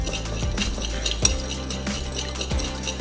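Utensils clink and scrape against a bowl as a dressing of lime, yuzu and mustard seeds is mixed for salmon crudo, steady close-up stirring with a few sharper knocks.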